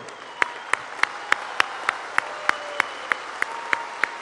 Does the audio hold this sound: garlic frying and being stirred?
no